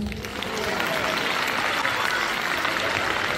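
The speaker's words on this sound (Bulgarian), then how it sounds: "Аплодисменти!" A large audience claps loudly and steadily at a Christmas charity concert in a hall, dense continuous applause filling the whole stretch close to the listener.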